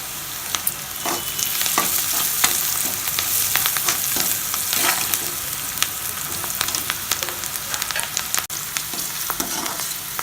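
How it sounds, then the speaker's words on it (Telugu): Onion pieces fry in a pan with salt and asafoetida, giving a continuous close sizzle broken by frequent scraping stirs and small clinks. "ఉల్లిపాయ ముక్కలు వేగినాయి."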